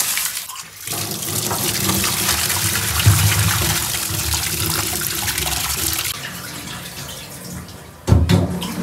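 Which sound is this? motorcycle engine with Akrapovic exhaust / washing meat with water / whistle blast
washing meat with water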